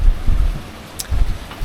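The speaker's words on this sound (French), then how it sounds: "Là il y a 20-23 nœuds de vent." Strong wind of 20-23 knots roars and buffets the microphone on a sailboat under genoa alone off the coast of Sicily, a loud, continuous rumbling gust noise with fluctuating intensity.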